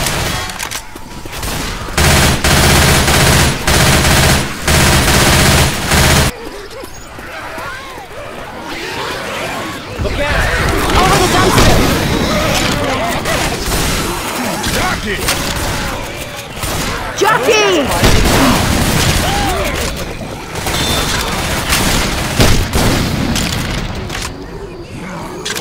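Video game combat with near-constant gunfire, sustained automatic bursts, heavy booms and sharp cracks layered densely for the whole stretch, loud and close, with voices calling out over the battle.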